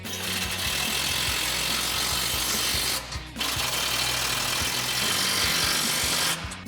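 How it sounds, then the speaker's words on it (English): A ratchet with a 15 mm socket tightening nuts on a Ford F-250 front suspension during a coil spring lift install, a loud continuous rapid clicking with one short pause, close up and without talk. "We'll come back in with our 15 mil socket and tighten these down."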